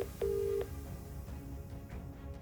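A phone keypad tone sounds once as a number is dialed to place a call, a single steady electronic beep lasting under half a second, followed by quiet room background.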